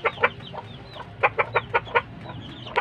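A chicken clucks in a string of short, uneven bursts nearby, with no talking over it.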